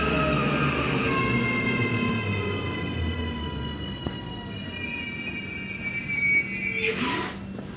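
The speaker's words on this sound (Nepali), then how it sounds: "ट्रेन पनि आयो" A train pulling into an Auckland railway station, its wheels and brakes giving off long sustained squeals and whines over a steady rumble, loud and close, with a brief hiss of air near the end.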